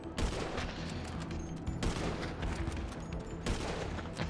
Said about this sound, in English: Watch one of these bikes. It's exploding